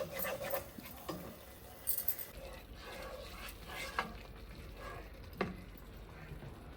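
Ginger fries in oil with a faint, low sizzle and occasional spoon knocks and stirring scrapes, quiet and close.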